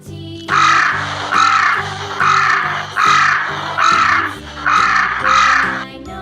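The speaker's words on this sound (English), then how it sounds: "Crow." A crow caws six times in a loud, evenly spaced series close by, with soft music underneath.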